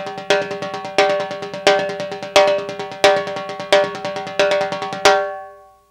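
A timbal fill (remate) on timbales: sharp, bright metallic strikes in a fast syncopated pattern with ringing overtones, several accented hits building over about five seconds before stopping and decaying.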